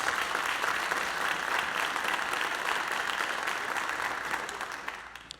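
An audience at a school-district program gives a performer named Jada another round of applause: dense, steady clapping from a crowd that holds strong, then thins and fades toward the close.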